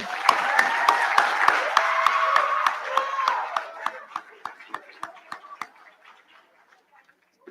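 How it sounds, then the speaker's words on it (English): A crowd at an 8th grade recognition ceremony claps for the students, full applause that thins out and fades to a few scattered claps before stopping. "Can we give a big round of applause to our 8th grade students here?"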